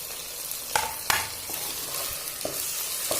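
Ground masala paste for a duck roast fries in a non-stick pan with a steady hiss, broken by a few sharp stirring scrapes and taps, close and without voices.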